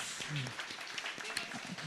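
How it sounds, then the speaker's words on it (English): A prize-giving audience at a golden jubilee celebration breaks into applause, soft, scattered clapping heard at a distance with voices mixed in. "Can we have a round of applause?"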